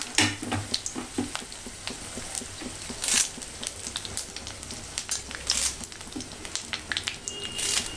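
Four dried red chillies crackle and sizzle in hot oil with cumin seeds while cooking sambar, giving steady frying hiss broken by irregular sharp pops and spits, close and alone.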